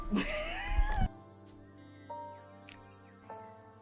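A cat gives a loud, drawn-out meow, then a couple of quieter, shorter mews follow after a pause.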